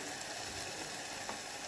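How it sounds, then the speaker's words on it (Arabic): Chopped red and green peppers, salted and spiced, sizzle in oil in a frying pan, a steady close hiss of frying throughout with no voices. "نخليها دابا تتشحر مزيان"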